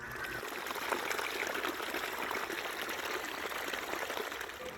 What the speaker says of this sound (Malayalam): അതിന്റെ വെള്ളച്ചാട്ടങ്ങളും നീരൊഴുക്കും ഒക്കെയാണ് ഈ കാണുന്നത്.